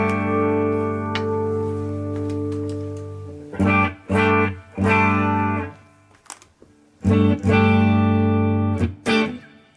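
An electric guitar with a clean, unaffected tone: a held chord ringing out, then several short strummed chords with pauses between.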